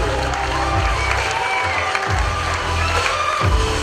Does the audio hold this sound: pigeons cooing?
no